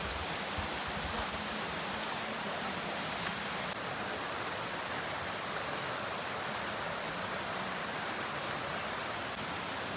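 A river running beside a forest road in Konkan gives a steady, dense rush of flowing water, constant and unbroken, with no voices.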